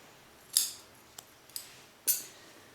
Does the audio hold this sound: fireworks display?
no